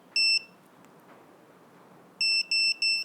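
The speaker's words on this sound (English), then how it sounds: "That's going to beep away, telling me where the model is." Sharp electronic beeps from a VIFLY Finder 2 model-finder alarm: one single beep, a pause, then three quick evenly spaced beeps, loud and close over quiet background hiss.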